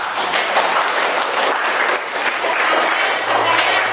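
Students in a classroom during an acid-base indicator lesson burst into loud, dense applause that stays even and sustained for several seconds, a thick wash of many hands clapping together.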